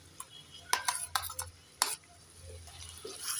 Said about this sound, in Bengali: একটু নেড়ে চেড়ে সব মশলাগুলোকে ভালো করে ভেজে নেব।